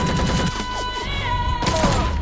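Gunfire in an action movie trailer, a loud burst of rapid shots over a dense score of music and effects, short and up front.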